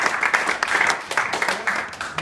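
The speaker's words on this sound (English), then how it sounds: "another round of applause for Noel, please." Audience applause at a live event, a steady patter of many hands clapping at close range with scattered sharper claps, sustained without pause.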